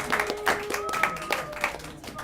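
Church congregation clapping at a worship service, a scattered burst of hand claps with some overlapping voices, moderately close and fading toward the end.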